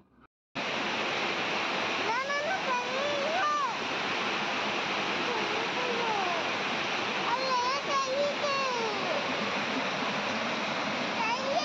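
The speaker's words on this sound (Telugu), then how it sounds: "మనకి ఇక్కడ ఒక చిన్న వాటర్ ఫాల్ లాంటిది కనిపించింది" A small waterfall rushes steadily as a continuous close wash of water noise for the whole stretch, with a few brief whistling, chirp-like tones rising over it now and then.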